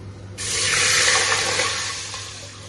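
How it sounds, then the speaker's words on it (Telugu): Water pours into a cooking pot for dum biryani in a steady stream for about two seconds, a broad splashing hiss that starts abruptly and tapers slightly at the end. "అందులోకి ఇది వేగాక లైట్గా వాటర్ వేయాలి"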